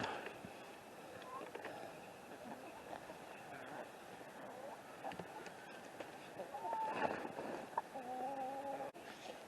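Chickens cluck softly around a hay or straw bale in a farm setting, faint and scattered beneath a steady background.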